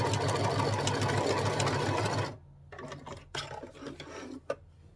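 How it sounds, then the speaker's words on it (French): A sewing machine runs a short seam 2 mm from the fabric edge while sewing underwear, whirring steadily and loudly for about two seconds before stopping, followed by quieter handling clicks and knocks. "Je vais faire une mini couture à 2 mm du bord"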